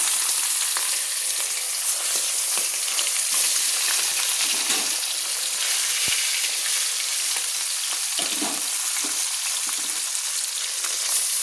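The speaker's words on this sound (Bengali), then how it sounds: "এই সময় আমি ম্যারিনেট করা বাটা মাছগুলো তেলের মধ্যে ছেড়ে দিচ্ছি ভেজে নেওয়ার জন্য" Marinated bata fish fry in hot oil with a loud, constant sizzle and crackle, with scattered pops and a few louder spatters, close by and with no one talking.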